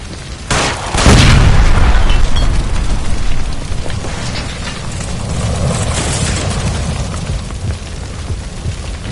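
A gas line by a stove blows up in LA Noire, a single loud, deep boom near the start followed by a long rumbling roar of fire and debris that slowly fades.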